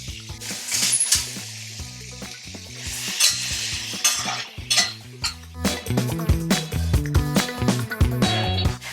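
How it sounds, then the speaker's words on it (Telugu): Garlic and dried chilies frying in oil, sizzling steadily in a pan while a utensil stirs and clinks against metal, with scraping throughout. "8 వెల్లుల్లి వేసుకొని బాగా వేయించేసుకుందాం ఇప్పుడు"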